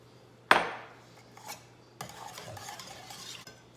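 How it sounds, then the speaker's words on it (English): A whisk working a soup mixture thinned with water, opening with a sharp metallic clank, then scraping and stirring strokes against the pot, close and fairly quiet. "let's whisk this"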